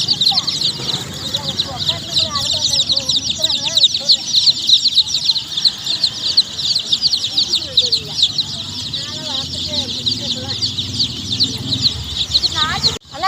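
Dense, continuous chirping and clucking from many chickens fills the scene, with occasional louder calls and a voice speaking beneath the flock.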